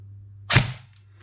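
One sharp snapping pop rings out as a Tokyo Marui M4 SOP Mod next-gen recoil airsoft rifle fires a 0.32 g BB through a chronograph, standing alone over a low steady hum.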